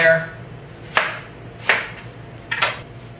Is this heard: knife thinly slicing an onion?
yes